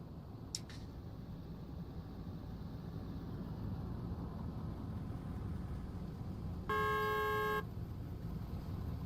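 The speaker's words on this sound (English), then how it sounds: "Every time you honk, I'll sit here longer." A car horn in Out of Ore 2 blares once, a single sustained honk of about a second, over a steady low engine rumble with a brief click near the start.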